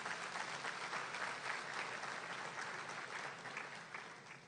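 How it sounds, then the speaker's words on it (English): Sustained applause from a sizable crowd at a Chamber of Commerce luncheon, steady and dense throughout, easing slightly toward the end. "So if we could all just give a big round of applause and wish Bill Marshall a big happy birthday"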